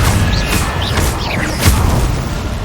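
The Confringo spell explodes in Hogwarts Legacy, a loud booming blast with continuous rumbling game sound throughout and brief whooshing effects.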